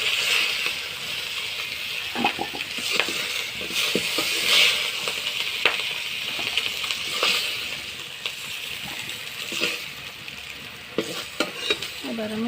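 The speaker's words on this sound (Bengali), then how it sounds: "মাথাগুলো আমার ভাজি ভাজি হয়ে গেছে," Katla fish heads fry in hot oil in a kadai, a constant sizzle and hiss broken by repeated scraping and stirring strokes of a spatula, close and fairly quiet, with no talk.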